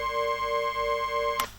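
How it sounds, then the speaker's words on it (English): A pitch-shifting white noise effect built for a drop in LMMS, with a steady bright tonal hum held for over a second before a sharp noisy burst cuts it off. "This one is a pitch shifting noise for the drop"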